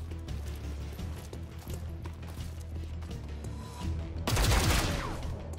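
An enemy trooper fires in the tactical game XCOM Chimera Squad, a sharp burst of gunfire late in the clip, louder than the crackling shots and game noise before it.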